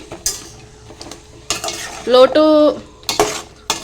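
Okra curry stirred in an oiled pan, intermittent scraping and clattering strokes of a utensil against metal with a soft sizzle beneath, including a squeaky scrape, close and loud with no talking.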